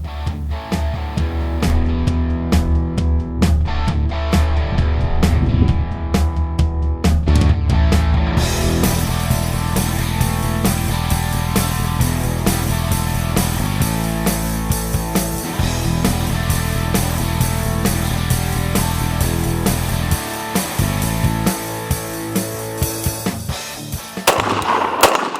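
Rapid bursts of gunfire from a short-barreled rifle fitted with a Deadfoot Arms MCS folding stock, sharp loud reports repeating through most of the stretch, with a brief pause near the end.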